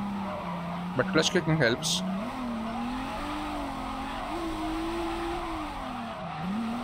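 A car skidding and spinning out in the JDM: Rise Of The Scorpion racing game: a sharp burst of tire squeal over a steady engine drone, which continues with shifting pitch after the slide, while someone talks.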